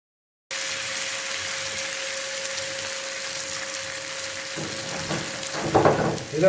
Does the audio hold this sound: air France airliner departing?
no